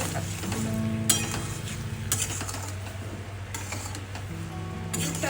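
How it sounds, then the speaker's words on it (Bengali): Amla pickle, made with Indian gooseberries and jaggery, stirred in a pan, a steady bubbling sizzle with scraping spoon strokes against the metal and a few clinks, close, with a low hum underneath. "যতক্ষণ পাক না হবে ততক্ষণ নাড়তে"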